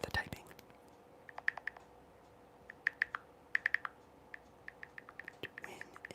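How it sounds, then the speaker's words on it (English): Quiet keyboard typing at close range during a live ASMR hangout: scattered sharp key clicks in short bursts and pauses over a soft background hiss, with faint whispering-level breath noise around them. "I want you guys to hear the typing."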